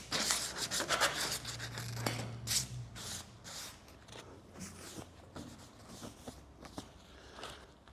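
Hand sanding or rasping along the outside edge of a car body panel during surface prep for filler, a near, irregular scratchy rubbing in short strokes, with a low hum early on.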